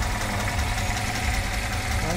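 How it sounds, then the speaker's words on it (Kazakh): A Lada Zhiguli or Niva car engine idles with a steady, even mechanical hum and faint ticking, heard close and unchanging throughout. "Мотору да сааттай чыкылдайт."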